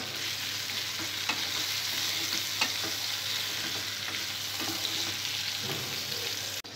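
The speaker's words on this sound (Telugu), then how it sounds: "పచ్చిమిరపకాయలు కూడా కొద్దిగా ఫ్రై అయిన తర్వాత ఇందులో వెల్లుల్లిపాయ కొద్దిగా చింతపండు వేసుకోవాలి" Green chillies sizzle steadily in hot oil in a pan for a tomato and onion roti chutney, a continuous close hiss with a few faint stirring clicks and no voices.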